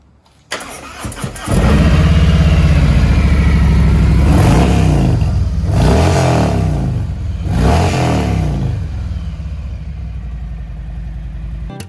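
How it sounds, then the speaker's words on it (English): A 2020 Harley-Davidson Road Glide motorcycle with stock exhaust starts up close and loud, settles into a rumbling idle, then revs three times in quick, rising bursts before idling again. "He's going to go ahead and start up, give it a couple of revs"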